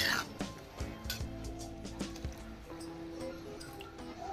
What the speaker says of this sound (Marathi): यात थोडे आपण पाणी ऍड करणार आहोत